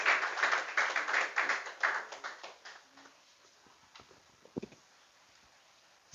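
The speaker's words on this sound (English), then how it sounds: "Please clap while she's mounting the podium." Audience clapping at a school debate competition as a speaker mounts the podium, a burst of claps fading after about two seconds into scattered taps and a quiet room.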